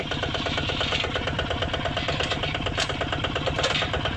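A Kubota ZT155 tractor engine runs at a steady mid-pitched idle with a rapid, even chugging pulse, close and fairly loud, with no voices over it.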